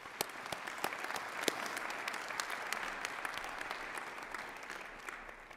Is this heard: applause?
yes